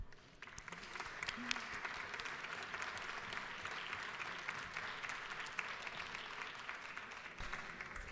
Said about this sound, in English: please give a round of applause for Children's Healthcare of Atlanta